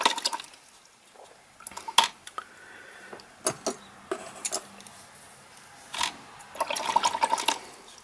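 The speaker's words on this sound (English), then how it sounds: "And fresh, clean water." A watercolor brush is swished and tapped in a container of clean water, giving irregular splashes, drips and clinks close by, with no talk.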